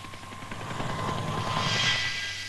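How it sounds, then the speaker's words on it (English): An Agusta Bell helicopter with twin Bristol Siddeley Gnome turbine engines at the 1966 Farnborough air show, a steady rotor and turbine drone with a faint chopping pulse that swells slightly, heard at a distance. "Italy's Augusta Bell helicopter is powered by twin Bristol Siddeley Gnome engines."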